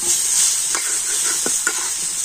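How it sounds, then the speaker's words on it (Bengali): Grated potato and spices are stirred in a frying pan over a bright, steady sizzle, with a few distinct scraping strokes of the spatula against the pan. "তো আলুর সাথে সমস্ত মশলাগুলো খুব ভালোভাবে নাড়াচাড়া করে নেব।"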